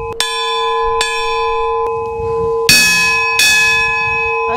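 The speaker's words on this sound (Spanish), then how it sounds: "vamos a tocar la campana" A large church bell at a castle ringing out loudly several times, each strike leaving a long, shimmering hum that rings on between the strokes.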